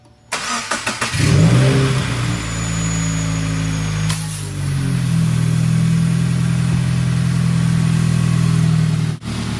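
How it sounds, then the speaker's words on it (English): A Subaru WRX engine starts with a few clicks, then runs steadily at a low rumble, close by, with a brief rev partway through. "go ahead and start your car"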